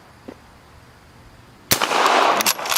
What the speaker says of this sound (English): So I'm going to move my hand in front of it and take a couple more shots.